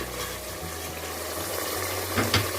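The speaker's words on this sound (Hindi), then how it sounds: "फिर अब हम इसमें थोड़ा सा पानी डालेंगे और इसको प्रेशर लगा देंगे।" Water runs steadily into mutton nihari in a pressure cooker, a continuous soft splashing pour lasting the whole stretch with a slight swell near the end, no talk.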